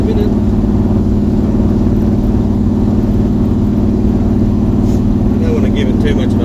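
A car fitted with a 383 Chevrolet V8, Turbo 400 transmission and VE Commodore steering rack on its first drive, the engine rumbling loud and steady from inside the cabin, with a voice speaking over it.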